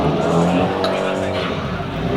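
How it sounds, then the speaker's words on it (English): A Nissan Skyline R32 drifts at an open-house car event, its engine roaring loud and close with tire squeal mixed in, while voices carry underneath throughout. "The famous Skyline drifting around."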